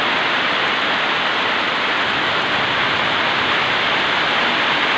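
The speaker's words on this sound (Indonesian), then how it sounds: "Hujan yang sangat deras" Very heavy rain pours down outdoors over a rice field, a dense, steady roar of rainfall that stays loud and unbroken throughout, with no voices.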